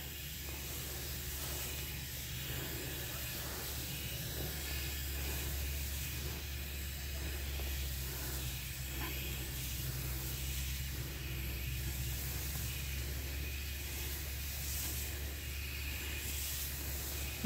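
Crop sprayer misting kidney bean plants in a field, a steady continuous hiss with faint rustling, constant in level throughout and no voices.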